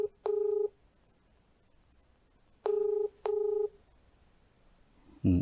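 A mobile phone keypad sends out a few short electronic dial tones, one brief beep then two more after a pause, clear and isolated over faint background hiss.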